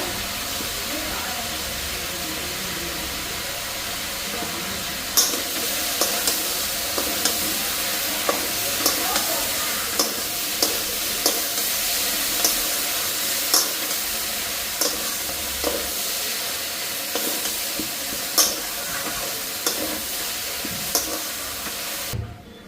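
Poppy seed and cashew paste fries in a pan for a mixed vegetable dish, giving a steady, close sizzle broken by frequent sharp scrapes and taps of stirring.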